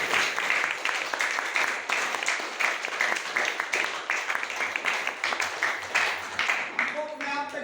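An audience at a DXN meeting applauds with rhythmic, repeated clapping, a steady pulse of claps that goes on for several seconds, moderately loud, before a voice begins to speak near the end.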